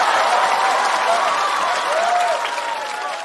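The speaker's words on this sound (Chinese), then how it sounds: "所有的掌声都响了" A comedy show audience breaks into sustained, loud applause, dense clapping that holds steady and then eases slightly toward the end.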